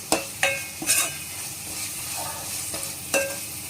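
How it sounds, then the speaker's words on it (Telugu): Ginger garlic paste fries in a pan with a continuous soft sizzle, broken by a few sharp scrapes and clinks of a spoon stirring against the metal, close and alone. "ఇలా అల్లం వెల్లుల్లి పేస్ట్ కూడా దీంట్లో వేసి వేయించేసుకోవాలి ఫ్రెండ్స్"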